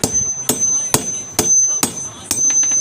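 Sharp metal hammer strikes drive a bushing onto a mixer chutney jar, six loud blows at a steady half-second rhythm with ringing decay, close and alone.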